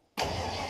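A vintage modified car engine fires up after sitting for 55 years, starting abruptly after a near-silent moment and settling at once into a loud, steady close-up running roar.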